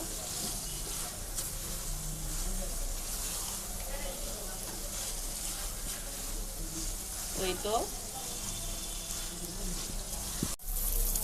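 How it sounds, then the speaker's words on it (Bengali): Shrimp frying with spices and onion in a pan, a constant close hiss of sizzling oil with occasional stirring, a brief voice-like sound and a sharp knock near the end. "এখন আমি এই পর্যায়ে কিছুক্ষণ চিংড়িগুলোকে মশলার সাথে পেঁয়াজের সাথে ভেজে নেব"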